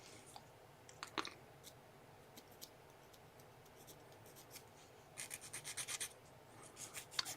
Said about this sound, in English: This is a bit too tight, so I'm gonna bevel this a bit